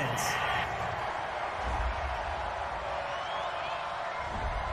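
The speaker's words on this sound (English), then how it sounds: "this crowd does not like that call" Large stadium crowd at a Washington Redskins versus Miami Dolphins football game roaring and booing in displeasure at a roughing penalty, a broad sustained wash of noise filling the whole moment.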